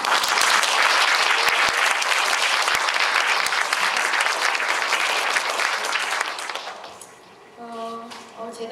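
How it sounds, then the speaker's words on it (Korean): Concert audience breaks into loud, sustained applause with dense clapping at a Korean group's tenth-anniversary show, fading out near the end as a voice begins speaking. "근데 생각지 않은 곳에서 박수가 나와서"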